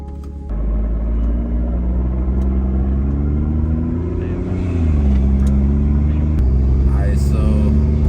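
A BMW M240i with an aftermarket exhaust and tune idles loud and close right after a cold start, a steady deep rumble with a slight shift in pitch partway through, running alone without talk.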